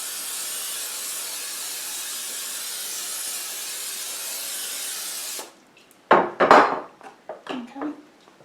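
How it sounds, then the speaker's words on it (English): Cooking spray hisses in a steady, loud, close burst for about five seconds onto a 9 by 13 pan, then stops, followed by a few knocks and clatters of the pan being handled. "I'm going to spray my pan, and this is a 9 by 13"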